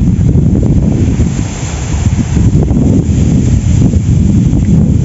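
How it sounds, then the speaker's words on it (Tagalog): Strong wind roars steadily into the microphone, buffeting with low rumbling gusts over choppy water at a fishing spot in Jaen, Nueva Ecija, loud and continuous throughout. "Lakas ng hangin."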